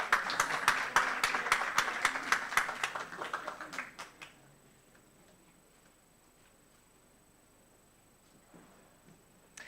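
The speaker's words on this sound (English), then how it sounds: "Give him a round of applause" Audience applause at a university research week event, a dense burst of clapping that thins into scattered claps and fades out after about four seconds, followed by quiet room tone with a faint steady tone.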